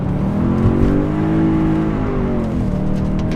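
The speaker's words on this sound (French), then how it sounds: "La sonorité du V8 c'est juste fantastique." A BMW M3 E92's V8 engine roars loud and close while the car drifts, its pitch sweeping up and down in steady revving waves across a few seconds, with no voices.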